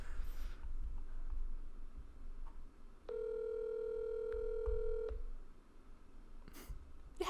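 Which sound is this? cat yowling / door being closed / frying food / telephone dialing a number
telephone dialing a number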